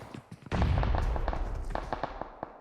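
Grenade blasts in the shooter game PUBG, a heavy booming burst with deep rumble followed by a string of sharp crackling pops and rattles, fairly distant and muffled.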